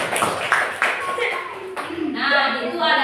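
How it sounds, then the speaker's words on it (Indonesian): Scattered hand clapping from a group, likely children in a classroom, with brief bursts of applause mixed with chatter and voices. "Udah gitu? Tepuk tangan."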